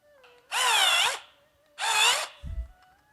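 A power drill boring holes through tires, with two separate high whining bursts of about half a second each, separated by a short pause, followed by a brief low thump.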